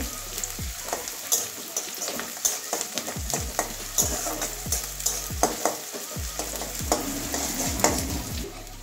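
Onion and broken green chillies frying in a pan, a continuous close sizzle punctuated by a steady series of rhythmic scraping strokes from stirring, roughly one or two each second.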